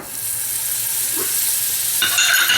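Butter sizzles and hisses in a hot pan up close, a steady frying crackle that swells into a louder burst toward the end.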